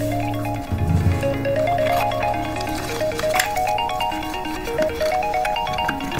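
A mobile phone rings at home with a melodic ringtone, a repeating stepped tune that plays steadily and fairly loud with no talking over it.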